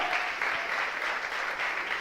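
A church congregation applauds with a continuous, even wash of many hands clapping, sustained and fairly loud for the whole moment with no gaps.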